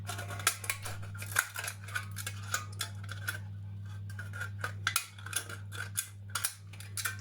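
Scissors snip repeatedly through thin tin-can metal while cutting flower petals, a run of sharp crisp clicks and rasps in irregular rhythm, close and clear over a steady low background hum.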